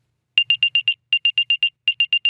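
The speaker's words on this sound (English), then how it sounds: "if an unknown AirTag is following you, it's going to make a beep" Three quick bursts of high, electronic chirping beeps from an Apple AirTag alert, five in each group and evenly spaced, clear and close with short silences between groups.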